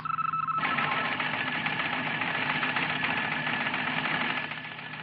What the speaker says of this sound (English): your teleprinter prints out the message like this